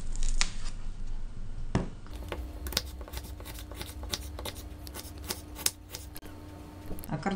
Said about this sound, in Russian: В это время нарезаем мелкими кубиками лук.